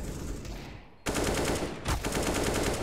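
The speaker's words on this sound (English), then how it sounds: "he's committed to the Glock now" Rapid Glock pistol fire in a CS:GO match on Vertigo, a loud burst of closely spaced shots that breaks off for a moment, then resumes in a second dense volley.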